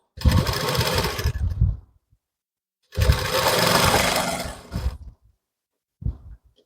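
Sewing machine stitching the neck strip of a size 34 blouse, running in two loud bursts of about two seconds each, separated by silence, then a brief short whir at the end.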